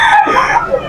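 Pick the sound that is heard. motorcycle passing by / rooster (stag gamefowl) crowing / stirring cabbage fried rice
rooster (stag gamefowl) crowing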